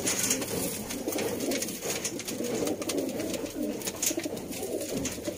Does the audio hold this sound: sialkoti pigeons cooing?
yes